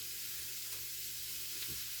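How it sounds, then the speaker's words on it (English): Steady, bright sizzling of homemade sausage from Gramercy, Louisiana, frying in a hot pan, a continuous close hiss with faint crackles and no voices. "You can hear it sizzling."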